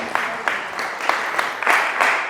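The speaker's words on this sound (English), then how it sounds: "Round of applause" Audience at a networking event applauding in a short burst, with distinct individual claps standing out rhythmically over a softer crowd clatter, fairly close.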